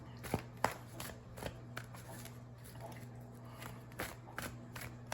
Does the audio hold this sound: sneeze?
no